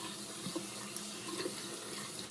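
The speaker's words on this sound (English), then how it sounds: "And I'm gonna get my washcloth wet. I only use warm water to wash my face." Warm tap water runs steadily into a bathroom sink to wet a washcloth, a faint even hiss with small splashes and a louder knock at the end, no talking.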